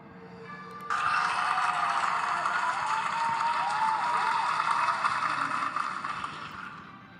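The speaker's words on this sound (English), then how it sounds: "I would request you all to give them a big round of applause." An audience at a junior school annual prize distribution ceremony claps for the prize winners, a dense, even burst of applause that starts suddenly after a second and holds steady at full strength to the end, fairly close.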